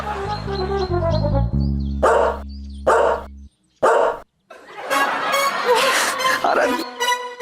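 A black dog barks in a few sharp, loud bursts after a stretch of tonal background music, and busy noise and voices follow.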